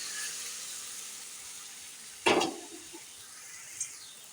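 Chopped plantain flower dropped into hot spices frying in a pan for a coconut plantain flower curry, giving one sharp loud burst of sizzling that quickly fades over a steady low frying hiss.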